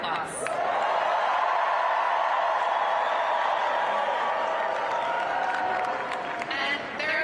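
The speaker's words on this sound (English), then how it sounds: "So please join me in giving Zohran, our friend, a round of applause." Sustained crowd applause with cheering and scattered whoops fills a packed election night speech hall, loud and steady throughout, with some voices mixed in.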